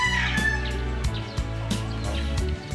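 Gilmore Gray gamefowl on a farm cluck and chatter close by, a lively run of short calls over a few seconds with a brief crow-like note near the start.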